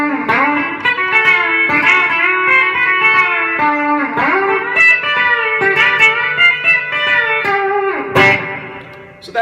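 B-Bender electric guitar running a country utility lick with pitch-bent notes, steady picked phrases with bends and a final strummed accent, played alone and fairly loud.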